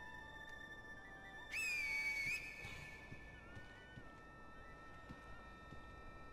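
Finger whistle in Sekiro: Shadows Die Twice, one sharp, loud, high pitched blast lasting under a second, standing out over a quiet, steady ambient bed.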